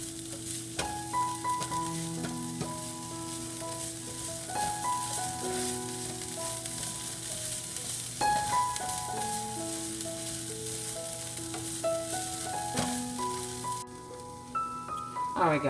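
Onion and vegetables fry in a pan, a steady sizzle and crackle running under background music with clear melodic tones throughout.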